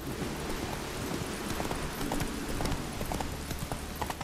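Geralt's horse Roach from The Witcher 3 galloping along a road, a steady rhythmic clip-clop of hooves at moderate volume, continuous throughout.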